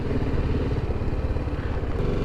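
BMW G motorcycle engine running steadily close by as the bike is brought in to park, a continuous low rumbling idle with no talk over it.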